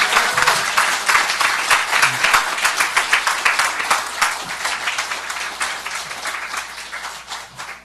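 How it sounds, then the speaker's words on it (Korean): A church congregation gives the pastor a warm welcome with loud, sustained applause, many hands clapping rapidly in a dense crowd that gradually tapers off over several seconds. "우리 나오실 적에 큰 격려의 박수 할렐루야로 이렇게 답해 주시면 고맙겠습니다"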